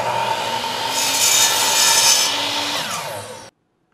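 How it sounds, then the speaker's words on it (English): A miter saw cuts square through a wooden pillar in one loud, close, continuous pass, then stops abruptly into silence. "Then I cut it square with the miter saw."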